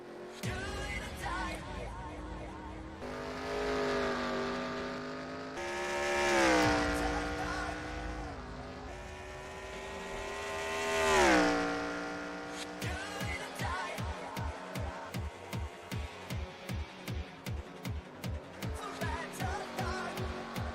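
Stock-style race cars lap the circuit in a NijiCar cup race, their engines whining and shifting pitch as they pass close by. A rapid rhythmic pulsing follows near the end, with faint commentary underneath.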